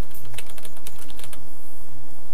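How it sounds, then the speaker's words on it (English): Quick bursts of keystrokes clatter on a computer keyboard while entering a logic derivation command, close and crisp, in a short irregular run with no talk. "We can do that by typing ASSID"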